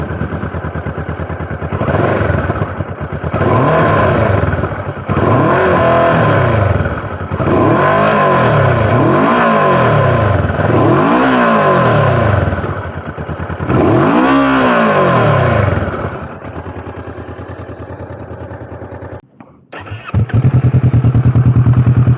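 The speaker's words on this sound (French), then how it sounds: "c'est parti pour l'essai du pot d'origine de la Vulcan S" A Kawasaki Vulcan S on its stock exhaust revs up close and loud in about six rising-and-falling throttle blips, then drops to a rough idle near the end.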